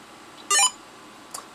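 A Toshiba Tecra 8000 laptop emits a single short, sharp electronic beep, followed a moment later by a fainter faint click-like blip in a quiet room.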